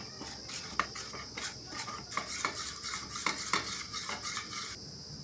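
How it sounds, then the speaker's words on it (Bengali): Cornflour mixed with water being stirred with a spoon in a small bowl, quiet repeated clinks and scraping strokes in an irregular rhythm over faint kitchen background. "2 চামচ কর্নফ্লাওয়ার দিয়ে আমি এখানে জল দিয়ে গুলে রেখে নেব।"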